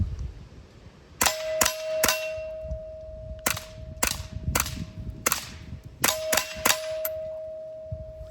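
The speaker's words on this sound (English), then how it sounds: "we've got the Remington subsonic 40 grain ammunition loaded up. The SWR Spectre 2 back on the Bergara BXR. See what it sounds like." Suppressed Bergara BXR rifle fitted with an SWR Spectre 2 silencer fires Remington subsonic 40-grain rounds, about a dozen sharp, fairly quiet cracks in uneven bursts, several followed by a ringing metallic ping from a struck target.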